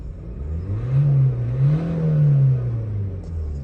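A 2013 Renault Megane turbo engine revs in smooth, rising and falling sweeps, climbing to a sustained higher pitch and easing back down, close and alone without talk.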